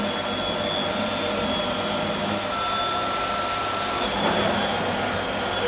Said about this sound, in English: the chlorinator cell is off, but the pump is still running